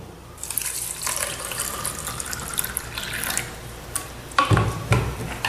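Tap water pours into a glass for a home water taste test, a steady splashing flow that runs for several seconds, then grows louder and heavier near the end, with no voices.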